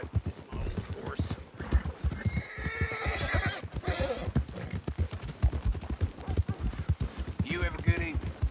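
A horse in Red Dead Redemption 2 whinnies amid rhythmic clip-clopping hooves, close and fairly clear, with game voices talking over parts of it.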